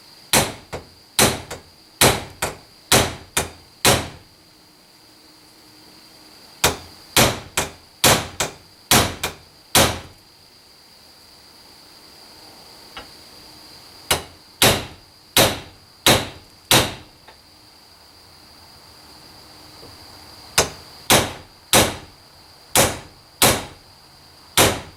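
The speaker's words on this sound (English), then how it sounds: "I'm going to go ahead and peen those brass pins over" Hammer peening brass pins over on a knife handle, struck against the flat anvil of a vise: sharp metallic taps in quick bursts of four or five, pausing between groups, close and crisp with no talk.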